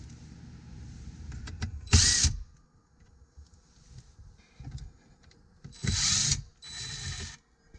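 A screwdriver works Torx screws loose from the radio in a 2012–2016 BMW 3 Series (F30) dashboard, giving small ratcheting clicks and mechanical rattles with a few louder bursts of handling noise, close up and without talk.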